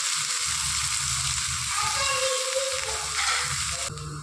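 Onions sizzle in hot oil with popped mustard seeds in a Tamil kitchen, making a loud, close, continuous frying hiss with faint crackles and no talk.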